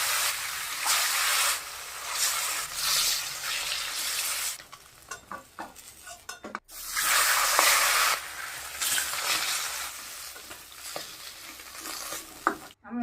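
Rohu fish hits hot mustard oil with turmeric in a kadai, giving a loud, steady sizzling hiss that briefly dips and crackles as the pan is stirred, then surges back to a strong fry.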